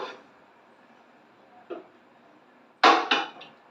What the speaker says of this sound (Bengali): আমি কড়াই বসালাম